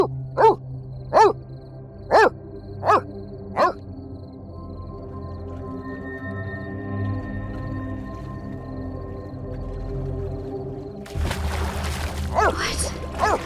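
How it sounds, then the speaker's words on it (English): Dog barking five times in a quick, evenly spaced burst over a low background hum, then falling quiet before more rough barks near the end. "What are you barking at?"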